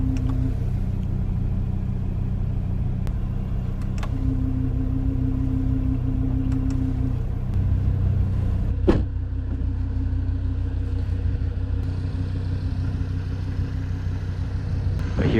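Audi TT RS with a straight-piped exhaust and its valves open, idling with a deep steady rumble and a few brief revs and sharp pops, loud and close with no talking.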